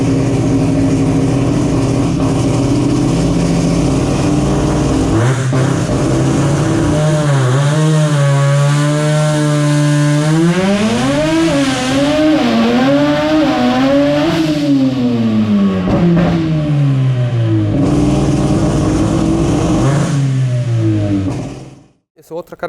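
A turbocharged rotary-engine car on a dynamometer revs hard, its loud buzzing howl rising and falling in pitch over many seconds before cutting off abruptly at the end.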